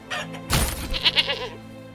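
Goat bleats from the farm animals in the medieval city-building game Manor Lords, a few short bleats rising over a steady game ambience.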